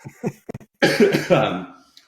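After a few short vocal sounds, one person coughs hard, close to the microphone, in a rough burst lasting about a second.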